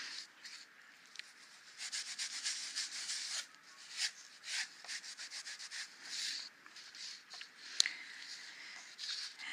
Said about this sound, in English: I like to come back and kind of deliberately rub on the glossy areas to make them nice and clear and clean.